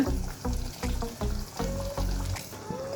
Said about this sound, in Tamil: பாருங்க, இந்த மாதிரி மீடியமாக தண்ணி ஊற்றிக்கங்க